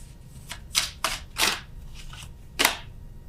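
Tarot cards being shuffled in short, papery bursts, about five or six quick riffles and slides at an uneven pace. They are close and moderately loud, with no talking.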